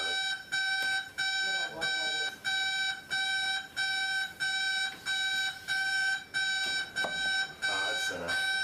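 The Big Brother house wake-up alarm blares as a loud, shrill electronic beep in evenly spaced pulses about every half second, repeating without letup, with faint voices underneath.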